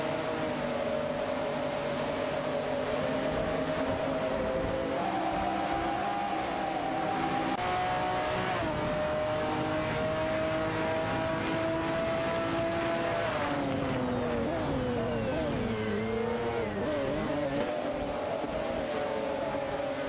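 Engine drone of a racing car in an automated AI-run race, held steady and loud throughout with shifting pitch as it accelerates and changes gear, other engine tones layered beneath, no talking.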